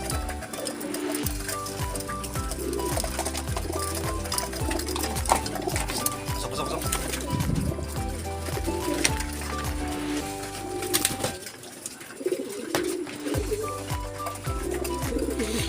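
Racing pigeons being prepared for a derby coo steadily and close by, the low calls repeating over a dense, continuous background without a break.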